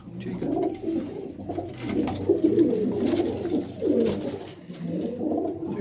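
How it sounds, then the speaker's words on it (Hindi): A flock of some forty to fifty pigeons cooing together, a dense continuous low burbling chorus close by, with no speech over it. "ये टोटल 40-50 कबूतर है, ये सारा एक साथ देना है।"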